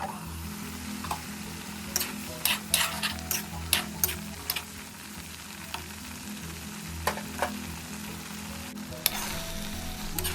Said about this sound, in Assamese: এতিয়া পালেং গ্ৰাইণ্ড কৰি থোৱাখিনি অলপ সময় ভাজিম